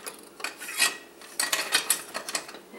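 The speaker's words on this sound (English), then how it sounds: "I'm just going to use a whisk" A whisk beats two cups of flour into four cups of cold milk in a bowl, a rapid, scratchy rhythmic swishing with clinks against the sides, close and steady with no voices.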